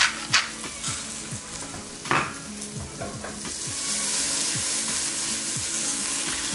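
Onions and zucchini sizzle steadily in a hot pan while a utensil scrapes and stirs them in repeated strokes, the frying hiss growing fuller toward the end.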